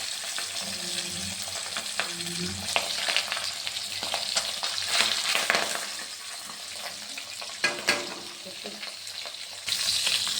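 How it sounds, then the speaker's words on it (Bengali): Pabda fish frying in very hot oil in a wok, a loud, continuous crackling sizzle with occasional sharp spatters and clatters as the pieces are turned. "আমি উল্টে পাল্টে আরেকটা দিক ভেজে নিচ্ছি"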